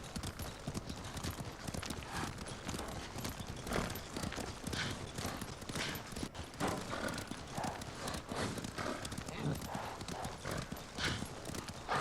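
Several horses in Ghost of Tsushima clatter along with fast, continuous hoof clip-clops, and a neigh breaks in partway through. The hoofbeats run unbroken for the whole stretch at a fairly even, close level.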